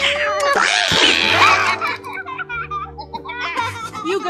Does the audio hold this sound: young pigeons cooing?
no